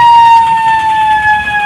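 An ambulance siren wails loud and close, with a steady high tone held by a vehicle stuck in traffic at a political rally.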